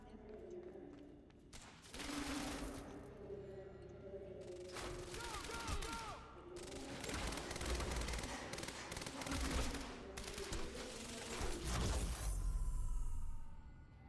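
Rapid bursts of automatic gunfire, including an advanced SMG, in the video game Quantum Break; several loud volleys come in clusters across the scene alongside other in-game effects.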